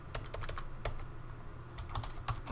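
Quick, irregular keystrokes on a computer keyboard while entering network configuration commands, close and clear, in short clusters of clicks over a faint background hum.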